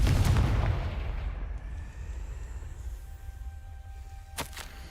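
A Confringo blasting spell in Hogwarts Legacy goes off with a loud, close explosive boom at the start that rolls away into a fading rumble, followed later by a brief sharp crack.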